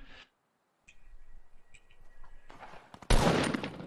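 Gunfire from a first-person video game: a short scattered patter of shots at mid-distance, then a loud sustained burst of rapid fire near the end.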